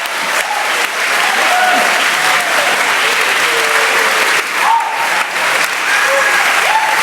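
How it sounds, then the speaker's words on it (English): A live audience at a podcast's Family Feud-style game show event bursts into loud, sustained applause, with dense clapping and some crowd noise filling all seven seconds. "Legitimately, the most applause Facebook has received in a long time."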